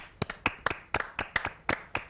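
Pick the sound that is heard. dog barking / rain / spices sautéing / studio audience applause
studio audience applause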